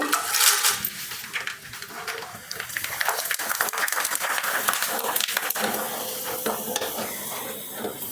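Rava vadiyalu fry in lightly heated oil, giving a continuous soft sizzle and crackle with occasional stirring and clinks of a utensil against the pan.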